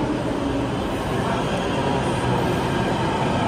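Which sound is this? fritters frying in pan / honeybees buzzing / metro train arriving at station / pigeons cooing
metro train arriving at station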